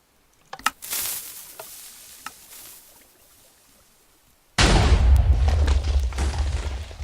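A TNT cannon in Minecraft goes off with a sudden loud, sustained explosive roar after a few scattered soft pops and thuds.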